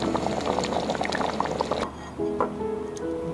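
Beef brisket and potatoes simmer in a rice cooker with no added water, giving a steady close bubbling that drops quieter partway through, with a few faint tonal beeps near the end.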